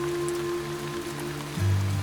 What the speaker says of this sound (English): We're facing a tropical rain.